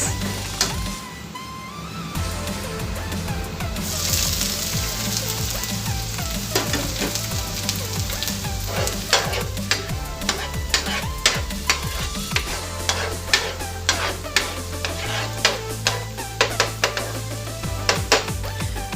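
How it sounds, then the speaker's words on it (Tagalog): Garlic fries in hot oil in a pan, a steady close sizzle with repeated sharp spoon taps and scrapes as it is stirred, backed by music and no talk. "hintayin lang natin maging kulay golden brown yung bawang bago natin ilagay yung sibuyas"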